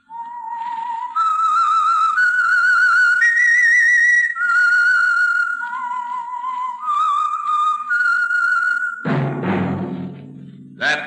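A whistled tune signalling The Whistler, the Signal Oil radio mystery program, rises and falls in clear sustained notes for about nine seconds, then cuts to a short burst of other sound.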